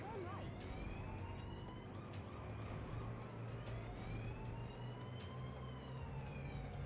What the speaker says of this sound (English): you hear the emergency, like the emergency siren